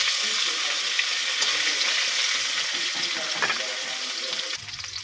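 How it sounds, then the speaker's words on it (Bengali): Five-spice, bay leaf, dried and green chilies and carambola sizzle steadily in hot oil in a pan, a dense close frying hiss with faint stirring scrapes throughout. "এবার পাঁচফোড়ন, তেজপাতা, শুকনো লঙ্কা, কাঁচা লঙ্কা দিয়ে দেবো।"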